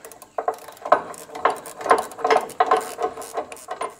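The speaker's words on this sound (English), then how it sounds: "we'll just put the spanner on here and send that home." Spanner tightening the rose joint on an adjustable sway bar link of a Nissan Patrol: a close series of ratcheting metallic clicks and clanks in an uneven rhythm, with no talking.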